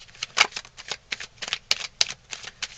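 Tarot cards being shuffled and laid down one by one, giving a run of crisp, quick papery slaps and riffles, close and fairly soft, with no talking.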